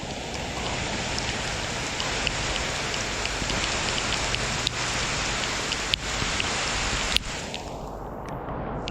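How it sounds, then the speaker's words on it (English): Heavy rain pours steadily onto a flooded yard, a dense, loud hiss of drops on water and surfaces with a few sharp taps and clicks, and no voices. "There's just so much rain, guys."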